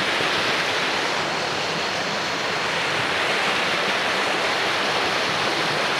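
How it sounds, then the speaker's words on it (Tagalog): A small waterfall at Blue Lagoon in Kaybiang, Ternate, Cavite, with a steady, dense rush of falling water that is close and continuous with no pauses. "Babayin natin yung mini falls ng Blue Lagoon."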